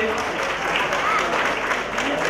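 An audience at a Dalit poets' gathering applauds steadily and evenly in a hall, a continuous clapping wash with voices faintly beneath.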